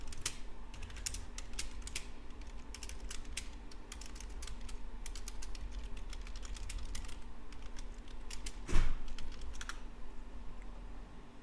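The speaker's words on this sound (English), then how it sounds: "if you heard typing, that was just me making an alert" Rapid, light clicks of typing on a computer keyboard patter in irregular bursts over a quiet hum, with one louder thump near the end.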